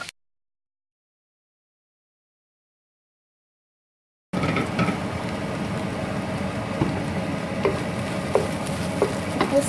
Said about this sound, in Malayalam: ബട്ടർ മെൽറ്റായി കഴിയുമ്പോൾ അതിലേക്ക് നമ്മൾ നേരത്തെ അരിഞ്ഞു വെച്ചിരുന്ന സവോളയും ഇഞ്ചിയും വെളുത്തുള്ളി ഇട്ട് ചെറിയ ഗോൾഡൻ കളറാവുന്നതിന് വരെ